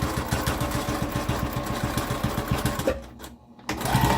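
A sewing machine stitches a fabric book sleeve in a fast, even mechanical chatter of needle strokes that runs close and steady, then halts briefly before the motor starts up again.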